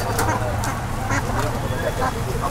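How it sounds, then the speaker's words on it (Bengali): Ducks at a large tribal market in Assam give repeated short, nasal quacks against a busy crowd murmur, with people talking nearby. "দেখুন এটাকে হাঁস কিন্তু কত রকম কত জায়গায় দেখতে পাচ্ছি আলাদা আলাদা রকম।"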